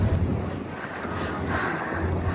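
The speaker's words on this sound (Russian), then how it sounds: "на открытой площадке ветер очень дует" Snowstorm wind gusts across an open square in a Moscow park, a steady roaring rush buffeting the microphone, fairly low in level and with no voices.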